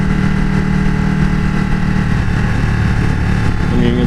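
A 2015 Ducati 1299S motorcycle engine while riding, a loud, steady droning engine tone with a humming low end and a slight pitch shift near the end, close up and continuous.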